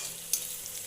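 Garlic and red chilli frying in oil in a pan, a continuous bright sizzle with a brief sharper crackle early on.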